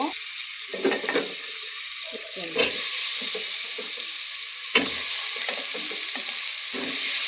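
Vegetables stirred into a pan of cooked-down spice paste for a fish and vegetable curry, with a steady sizzle under repeated scraping and stirring knocks and a sharp clatter partway through.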